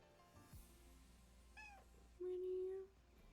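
An angry cat lets out a few short, strained meows followed by one longer, drawn-out growling yowl near the end, close by in a quiet indoor room.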